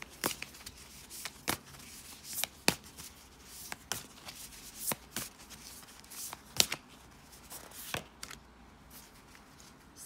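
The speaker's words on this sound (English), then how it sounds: "I'm gonna pull a oracle card for some advice." A deck of oracle cards being shuffled by hand, with quick crisp riffles and irregular sharp card snaps close up, fairly quiet in a still room.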